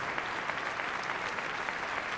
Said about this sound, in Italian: Anche per lui un grande applauso.